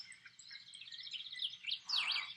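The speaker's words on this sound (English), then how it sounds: "Birds!" Birds chirp and tweet in quick repeated high notes, fairly faint and steady, with a louder rising and falling call near the end and no talk.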